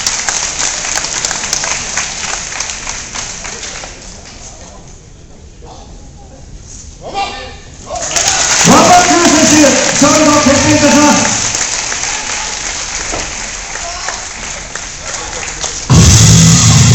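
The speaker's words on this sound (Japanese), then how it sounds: "拍手、歓声をお願いいたします" A Korakuen Hall wrestling crowd breaks into applause and cheering after a drawn match, first a loud burst of clapping, then a quieter lull, then another rising wave of claps and shouts under an announcer's voice.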